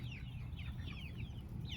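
Chickens cluck softly in a backyard, with several short chirpy calls scattered over a steady low rumble of background noise, faint and somewhat distant.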